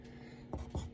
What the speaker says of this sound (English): So let's write that here